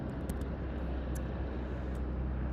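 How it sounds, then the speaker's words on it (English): Helicopters fly overhead, making a steady, broad low rumble that fills the whole stretch, moderately loud and somewhat distant, with no speech. "Sorry about the helicopters."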